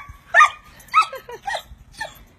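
A dog herding chickens gives four short, sharp yips or barks spaced about half a second apart, fairly close and clear against a quiet background.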